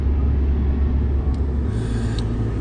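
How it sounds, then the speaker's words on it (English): Cars moving through a parking lot, a steady low rumble of engines and tyres close by, with a faint brief higher tone near the end and no one talking. "they're moving cars"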